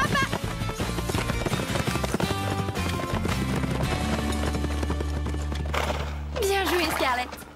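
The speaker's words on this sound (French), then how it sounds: "Au galop, elle peut battre n'importe quel cheval" In an animated series, a horse gallops in a race with fast, steady hoofbeats under a music score, and a whinny near the end.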